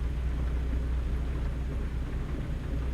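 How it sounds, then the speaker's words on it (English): Steady rainfall in the trucking game American Truck Simulator, a dense, even hiss layered over a deep constant rumble, with no breaks or distinct drops standing out. "The only real issue we're going to run into is the fact that it's raining."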